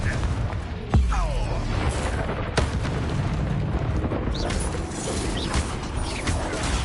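Confringo blast spells exploding in Hogwarts Legacy combat, a couple of sharp booms standing out over a dense rumbling, clattering battle wash that runs throughout.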